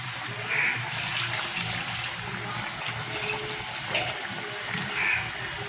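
Spice-rinsing water poured into a cooking pot of curry makes a soft, continuous close gush and splash, with no talk.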